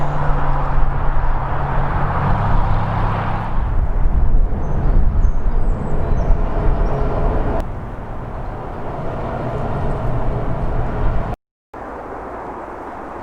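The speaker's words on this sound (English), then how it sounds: "As on cue, a noisy truck." Noisy truck passing on a countryside road, a loud broad rumble at close range for the first half that eases into a lower, fading roar, with a brief dropout near the end.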